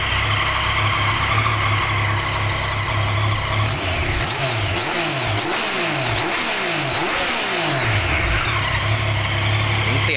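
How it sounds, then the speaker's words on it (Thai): Stock exhaust of a 2018 Yamaha XSR900 ABS motorcycle, a 900 cc three-cylinder, revved repeatedly, with loud rising and falling bursts over a continuous engine rumble, close by and without talk. "เดี๋ยวผมจะพาไปฟังเสียงท่อเดิม"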